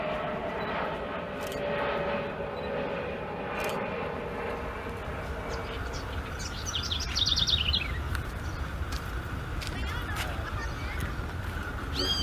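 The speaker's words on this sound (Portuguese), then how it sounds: "tem uns passarinhos cantando" Small birds chirp and twitter in short bursts over a steady background rumble of a passing airplane, with faint voices now and then.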